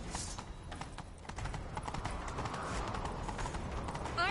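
Rapid hoofbeats of a horse in The Witcher 3 clatter in a galloping rhythm, growing fuller and closer over a few seconds, with a short whinny-like sound at the end.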